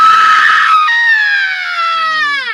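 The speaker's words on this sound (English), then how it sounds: "I want you to give me a long scream." A single long scream held by a person at a horror exhibit in Seattle's Museum of Pop Culture, loud and close, with a shaky start that settles into a steady, slowly falling tone lasting over two seconds.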